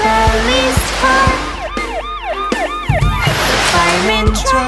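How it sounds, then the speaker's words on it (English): A police car siren wails in a cartoon for children, with rising and falling tones repeating over bright music and thumping beats, loud and up close. "The police car."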